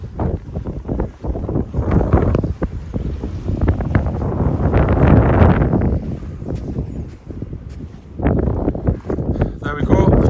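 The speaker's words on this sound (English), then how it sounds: "it's a bit windy here now." Strong gusts of wind on a coastal beach along the Arran Coastal Way buffet the microphone in loud, uneven surges with brief lulls between them.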